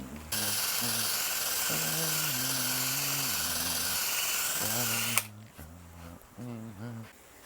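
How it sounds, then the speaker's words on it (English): A hand drum sander working a guitar body gives a loud, steady whirring grind for about five seconds, then cuts off abruptly, with someone speaking over and after it. "We can probably finish this whole thing off with this hand drum sander."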